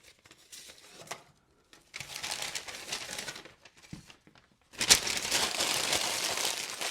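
Paper packaging crinkles and rustles up close while a small fixed-blade Tops knife is unboxed, in several bursts of crumpling with short pauses between and the loudest burst at the end.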